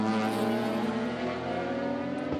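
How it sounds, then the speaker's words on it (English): A field of improved production race cars, including a 1979-spec Mazda RX-7 and Holden Commodores, drone around Bathurst's Mount Panorama circuit, a continuous layered engine roar with strong harmonic whine throughout. "The 79 spec RX-7 that's got a field of cars queuing up behind him while he's catching one of the Commodores"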